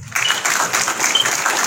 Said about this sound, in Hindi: डीसीपी साहब के लिए मैं चाहूँगा कि ज़ोरदार तालियां हो।